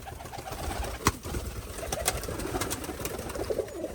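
Rajshahi Giribaz pigeons offered for sale coo softly and steadily against a busy background, with a few sharper clicks and knocks, and nobody speaking.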